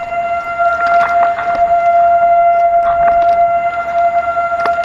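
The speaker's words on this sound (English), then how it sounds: "all of a sudden sirens start blaring. Tornado sirens to be precise." Tornado sirens blare as a steady, sustained wailing tone that holds through the whole stretch, loud and continuous over background noise with no speech.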